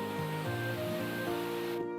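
Dat Taw Gyaint waterfall near Pyin Oo Lwin, Myanmar, with wind-blown spray: a steady, dense rushing roar of falling water, continuous and fairly close, no voices.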